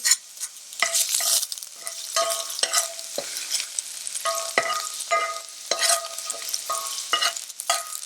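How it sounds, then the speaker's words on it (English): Ginger sizzles in a frying pan in a vegan sisig dish, with crisp crackling and repeated clacks of a utensil stirring and scraping at an uneven rhythm, and no talking. "Then we'll add the ginger."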